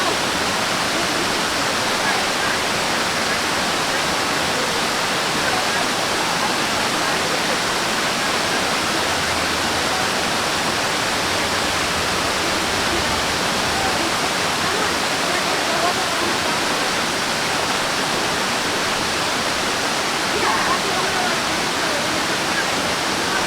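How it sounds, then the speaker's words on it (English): Amicalola Falls, a waterfall in a state park with a small creek flowing under a bridge, roars as a constant, even wash of falling water for the full length, close and loud. "forms an amazing waterfall"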